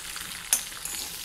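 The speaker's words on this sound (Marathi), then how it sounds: "आता गॅस बंद करते मी आणि लसूण टाकते त्याच्यामध्ये।" Garlic frying in hot oil with green chillies for a green chilli thecha, the gas just switched off; a soft, steady sizzle runs throughout, with a brief sharp crackle near the middle.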